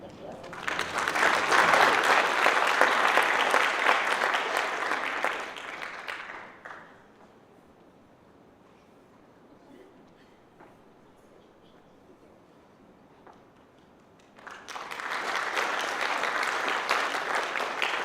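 Loud audience applause for high school students at a top 5% honors ceremony, two bursts of sustained clapping separated by a quieter stretch of room noise.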